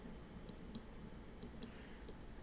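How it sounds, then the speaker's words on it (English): Small, sharp mouse clicks recur at irregular moments over steady low background hum during a Sculptris sculpting session, each click brief and fairly faint. "that's clicking with the mouse"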